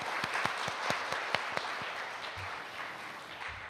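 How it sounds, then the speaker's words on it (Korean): Applause at a product launch for the X1 suit demonstrators, with several sharp individual claps standing out over a soft bed of clapping, moderately distant and fading. "시연자 여러분 박수 한번 주시죠"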